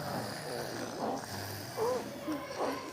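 An adult voice imitates snoring for young children during a storytelling session, a few drawn-out nasal snore sounds spread across a few seconds, close and clear with soft background noise.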